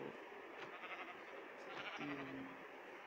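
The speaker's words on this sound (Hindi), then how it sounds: "आज हम सबसे पहले इस sheep को मारेंगे" Sheep from Minecraft for Android bleats a few short times, faint and close, against a steady hiss of background noise, with no talking.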